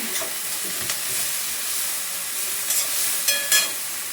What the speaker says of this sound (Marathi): आता फास्ट गॅसचे परतून घेत. कांदा परतलाय.